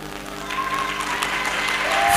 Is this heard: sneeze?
no